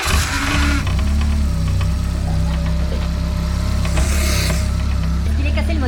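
A car engine runs at idle with a steady low hum and faint rhythmic knock, close and continuous, while people talk over it.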